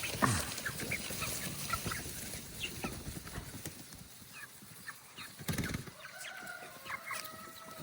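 Hungry meat chickens cluck and shuffle around a movable chicken tractor on a farm, faint and scattered, with soft scuffing and occasional louder bursts of movement nearby.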